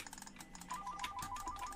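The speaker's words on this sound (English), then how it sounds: "Phone! No!" A telephone ringtone chirps in a rapid warbling pattern through the second half, quiet and steady, over soft keyboard-like tapping.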